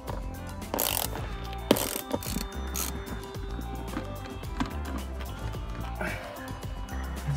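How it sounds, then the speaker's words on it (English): A socket wrench ratchets while loosening fasteners in the center console of a Porsche 991, giving short clicking bursts among clunks and rustling under a busy, cluttered interior background. "We're gonna use the socket wrench."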